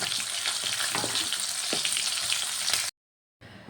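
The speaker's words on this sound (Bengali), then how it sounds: "দুটো মাছকে আমি দিয়ে দিলাম এবার ভালো করে ভেজে নেব" Pomfret fish frying in hot oil in a pan, a steady loud sizzle and crackle throughout, cutting to silence briefly before resuming.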